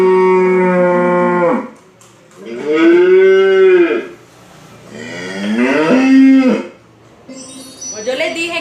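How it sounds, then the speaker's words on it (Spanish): Cattle mooing repeatedly, three long, loud, drawn-out harmonic calls separated by short pauses, close and clear, for a children's lesson on farm animal sounds. "Esta es la vaca."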